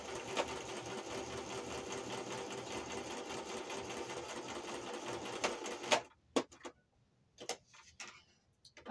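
A sewing machine stitching a paper-craft pocket tag runs in a rapid, even, close whir for about six seconds, then stops, leaving a few faint handling clicks and rustles.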